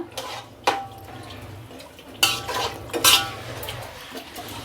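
A pot of Dindigul-style mutton biryani with seeraga samba rice and freshly added water is stirred, with a few sharp metallic scrapes and clanks of a spoon against the vessel between quieter stretches.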